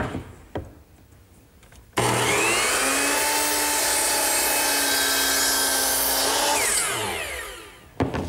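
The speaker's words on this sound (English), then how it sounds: "that angled cut is best made at the power miter box" Power miter saw slicing through wooden wheelbarrow handles on an angled cut, a loud steady whine lasting about five seconds after a short spin-up, then winding down, with a few knocks before and after.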